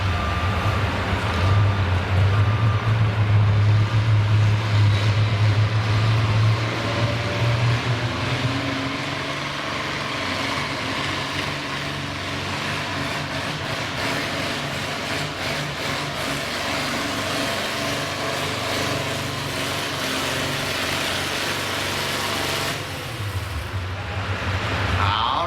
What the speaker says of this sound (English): Charles, I just love to see tractor pulling.